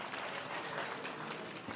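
Audience applause fills a hall at an annual celebration honoring Washington, DC centenarians, a steady, dense wash of many hands clapping at moderate distance with no voices over it.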